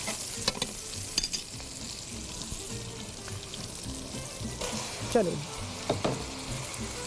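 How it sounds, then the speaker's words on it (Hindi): A kilo of chicken goes into a hot pan with whole spices and starts frying. A constant hiss runs under a few clattering stirs, close and moderately loud, and a voice speaks briefly. "चलो भाई, चिकन डाल देते हैं।"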